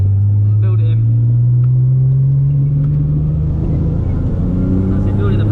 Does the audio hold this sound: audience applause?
no